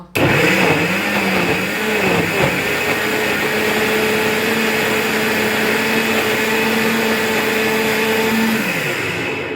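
A kitchen blender whirs a mango and carrot shake with a loud, steady motor drone that settles after a brief uneven start and runs for about nine seconds before winding down.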